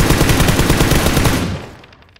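A machine gun rattles in rapid, continuous automatic fire in the PUBG video game, loud and close, then the burst stops and fades out over the final half second.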